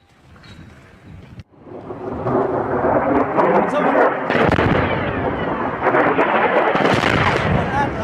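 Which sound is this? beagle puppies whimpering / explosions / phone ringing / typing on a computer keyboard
explosions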